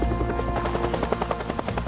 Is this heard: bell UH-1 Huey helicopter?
yes